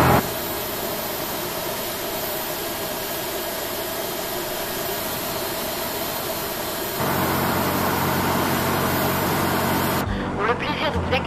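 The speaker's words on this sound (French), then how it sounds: "Démarrage moteur 2." Engine 2 of an Aigle Azur Airbus A320 starting during pushback, heard from inside the cabin: a steady broadband whine and roar that steps up in loudness partway through, then cuts off abruptly.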